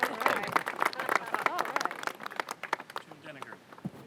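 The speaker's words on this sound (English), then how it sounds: "Give him a round of applause." Audience applause for a county executive at a Purple Line public event, scattered clapping that fades over a few seconds, mixed with crowd chatter and voices.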